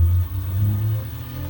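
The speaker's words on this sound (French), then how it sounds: "Il y a un gros moteur en dessous." A large motor under a dynamization machine on a livestock farm, turning slowly one way and then the other, gives a steady deep hum and rumble that stays close and even, with no talk.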